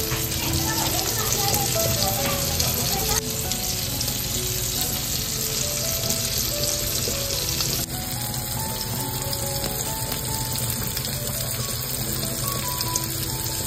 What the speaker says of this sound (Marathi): आणि आता तेलामध्ये फ्राय करायला सोडायचं आहे.